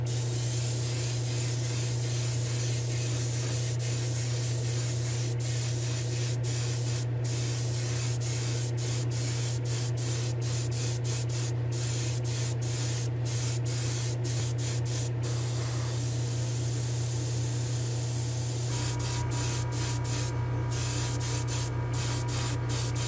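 A spray gun applies gloss white paint and clear coat in a spray booth during an AMX Javelin build, a steady loud continuous hiss with brief interruptions, over a constant low booth hum.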